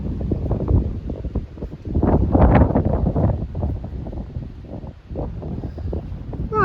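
Strong storm wind buffets the microphone outdoors in rough, continuous rumbling gusts, loud and uneven, swelling and easing over several seconds.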